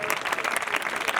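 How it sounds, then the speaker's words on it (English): Congregation clapping at a church mass prayer service, a dense, steady wash of many hands throughout the short moment. "Give Jesus a big clap."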